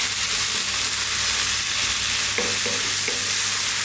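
Chopped tomatoes sizzle and fry steadily in a pan for corned beef hash, with a constant broadband hiss and a few clear scraping stirs of a utensil near the end, close and fairly loud.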